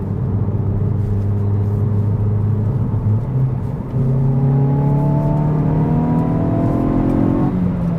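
A 2023 Hyundai i20 N engine revs steadily, its pitch climbing in rising harmonic sweeps after a brief dip midway, loud and close throughout with no talking.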